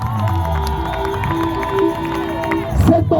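Church congregation at an evangelistic campaign service cheering and shouting in acclaim, a loud sustained crowd roar with sung or held tones and a surge near the end.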